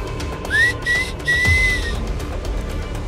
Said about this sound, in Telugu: తన నోటితో విజిల్ వాయిస్తూ